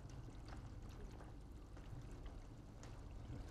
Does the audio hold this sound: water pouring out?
yes